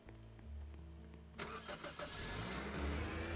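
A car engine in the video game Roblox Lumber Tycoon 2 cranks and catches, rising from a low idle hum into a steady, fuller running drone, moderately loud with no speech.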